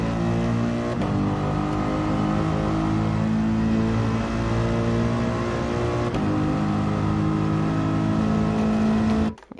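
An AMG race car engine in Gran Turismo 7 holds a steady, loud, high drone, with brief dips where gears shift, before cutting off abruptly at the end.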